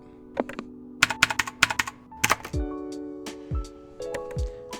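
Keys clack sharply on an old, dirty Aula Unicorn mechanical keyboard, first in a quick run of taps, then in slower single presses with low thuds, close and clear, with no voices.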